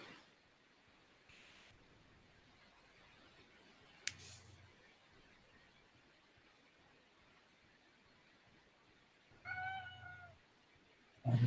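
A cat gives a faint meow near the end, a short wavering cry after long near-silence broken by a sharp click.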